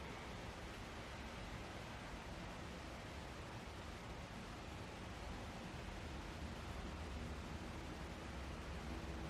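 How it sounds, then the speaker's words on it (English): Rain falls outside and comes in through an open window as a soft, steady, even hiss, faint and unbroken with no other sounds. "if you hear some noise in the background, my window is open. It's raining outside"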